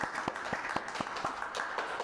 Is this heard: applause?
yes